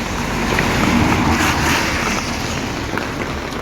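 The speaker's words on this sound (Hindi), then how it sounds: "गया भयंकर वाली बारिश, और आधे घंटे से मैं रुका हुआ।" Heavy monsoon rain in the hills near Mussoorie, Uttarakhand, a loud, constant roaring wash of downpour with no breaks and no voices.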